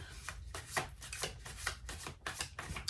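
A deck of tarot cards is shuffled close up, a steady rhythm of papery riffles and soft slaps repeating about every quarter second, with no talking.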